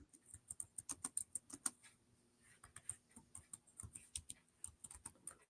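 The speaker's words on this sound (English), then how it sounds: "Sorry, I'm typing." Fingers tap rapidly on a computer keyboard in irregular bursts of soft clicks and clacks, close but quiet, with no talk.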